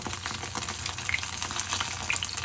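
Small oysters frying in a pan for an oyster omelette, giving a steady close crackling sizzle with scattered pops, no voices.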